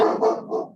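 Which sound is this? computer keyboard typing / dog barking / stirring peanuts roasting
dog barking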